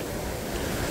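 Sea waves at Baga Beach, Goa, wash in as a steady, close roar of surf, blended with wind buffeting the microphone.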